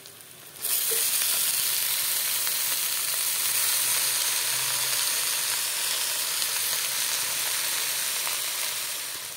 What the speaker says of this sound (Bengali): রসুনগুলো লাল হয়ে গেল, এখন দিয়ে দিব শাক।